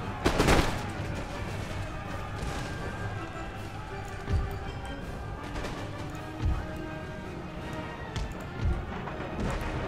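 Musket volleys in Empire Total War, a booming crack near the start followed by several spaced, rumbling shots over steady battlefield noise.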